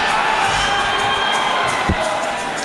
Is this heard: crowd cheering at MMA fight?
yes